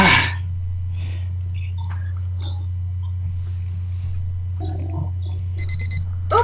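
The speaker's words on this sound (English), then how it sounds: "Then there's a timer." A timer alarm rings out during a board game of Mangaka, a loud electronic beeping that starts the clip and returns near the end, with scattered quiet voices and table sounds in between.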